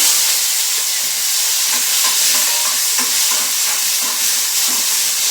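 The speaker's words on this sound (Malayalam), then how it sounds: "തക്കാളി നന്നായിട്ടൊന്ന് വഴറ്റിയെടുക്കണം." Chopped tomatoes sautéing in a hot pan for a homestyle chicken curry, a steady close sizzle and hiss with faint stirring scrapes, continuous throughout with no talking.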